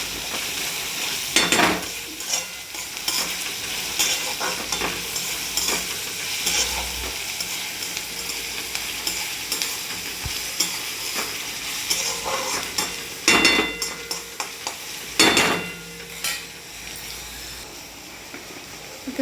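Chopped onions sauté in a pan for a soybean pulao, cooked until reddish brown: a steady sizzle runs throughout, broken by a few sharp scraping stirs of the spoon against the pan near the start and again toward the end.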